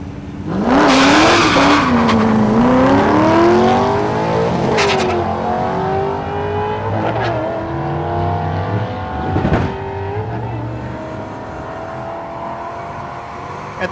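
At a drag strip, a Corvette and a Chevrolet Monte Carlo race in a loud burst of engine roar with rising, shifting pitch and tire squeal up close, then fading and thinning out as the cars pull away.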